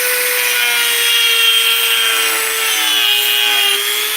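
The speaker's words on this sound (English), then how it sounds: "we just got a basic Dremel 100" A Dremel 100 rotary tool sanding a wooden dresser knob, giving a steady high-pitched motor whine with a slowly drifting tone over a continuous gritty abrasive rasp, close and loud throughout.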